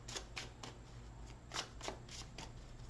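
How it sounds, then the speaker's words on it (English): A deck of tarot cards being shuffled, with a rapid series of crisp riffling flicks in steady rhythm, close but quiet, over a low background hum and no talk. "3 outcome cards off the top of the deck after this shuffle."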